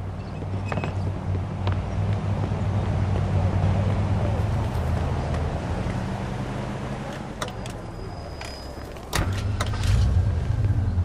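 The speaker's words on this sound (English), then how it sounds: "Let's take my car." A car engine drones low and steady throughout a drive in the 1940s-50s crime game Mafia II, its tone shifting briefly near the end as the engine note changes.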